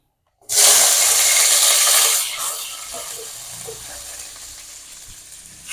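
Ingredients drop into hot, smoking oil in a wok for fried rice, setting off a loud, close hiss that bursts in, softens after a couple of seconds and keeps sizzling steadily with faint stirring knocks.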